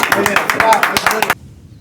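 Close, rapid clapping from an audience at an MGR fans' celebration, a quick burst of claps lasting just over a second before cutting off abruptly.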